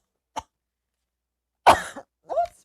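A person coughs during a live wrestling watch-along stream. A faint short sound comes first, then a sharp, close cough and a quieter throaty follow-up.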